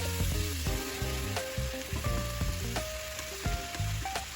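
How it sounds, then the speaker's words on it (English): Ground beef browning in a wok for a one-pan beef and potato dish, crackling and sizzling steadily as it is stirred, with a faint tonal background underneath. "Once I see that my beef is getting some color, I'm going to go ahead and stir it up."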